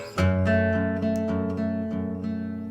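A guitar chord strummed once and left ringing, followed by a few softer plucked notes, with a dark, somber minor colour.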